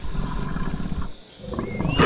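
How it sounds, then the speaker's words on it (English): A small predatory animal that hunts insects and scorpions gives a rough, roaring howl like a tiny wolf, close and loud, dipping briefly midway before rising again. "It hunts and howls like a tiny wolf."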